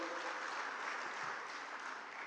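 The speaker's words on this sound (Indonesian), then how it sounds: "kita berikan aplaus" Steady, even applause from a large audience during a speech at the HIPMI national congress, a continuous wash of clapping at moderate volume with no break.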